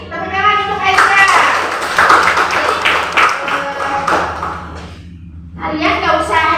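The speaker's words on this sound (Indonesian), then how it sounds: "Tepuk tangan untuk Aisyah." A fifth-grade classroom claps for a student during a maths lesson, a short burst of hand clapping mixed with children's voices and a teacher speaking.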